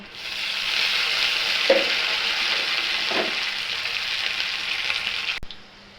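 Finely chopped onion sizzles in hot oil in a pan for a paneer biryani, a bright steady frying hiss with a couple of brief stirring scrapes near the close before it stops abruptly.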